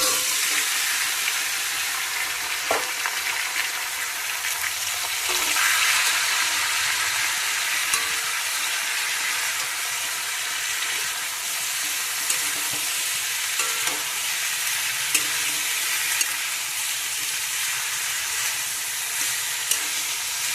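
Mixed vegetables for Bengali shukto sautéing in a wok give a steady, close hiss of frying broken by occasional sharp scrapes and taps of stirring, continuous for the whole stretch with no voices.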